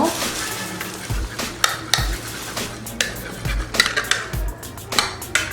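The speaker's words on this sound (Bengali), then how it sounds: "ডিমটাকে ভালো করে আমি এভাবে ফেটিয়ে নিব" An egg beaten in a bowl in a home kitchen while making chicken fry: rapid, rhythmic clinking and tapping of a utensil against the bowl, close and steady, with a low hum beneath and no speech.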